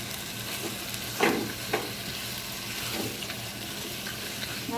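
Chicken pieces hit a hot pan for a curry and fry with a steady sizzle, with a couple of sharp stirring scrapes and splashes in the first half, close and clear with no talk.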